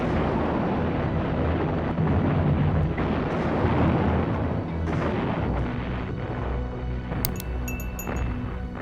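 Continuous rumbling artillery fire fills the scene with dense, overlapping booms and a low roar, loud and sustained throughout, with a faint high tone appearing near the end.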